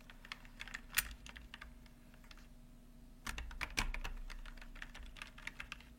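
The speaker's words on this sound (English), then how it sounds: "That is my keyboard." Typing on a computer keyboard in an office, steady quick clicking keystrokes close by, with a brief pause before a louder burst of keys, no talk.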